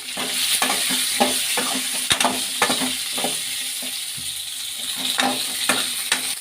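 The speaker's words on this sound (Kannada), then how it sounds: "ಈಗ ಈರುಳ್ಳಿ ಹಾಕೊಳ್ಳೋಣ ಈರುಳ್ಳಿನ ಹಸಿ ವಾಸನೆ ಹೋಗೋವರೆಗೂ ಹುರ್ಕೊಂಡ್ರೆ ಸಾಕು" Onions frying and being stirred in a pan for onion tambuli: a steady close sizzle with repeated scraping stir strokes throughout.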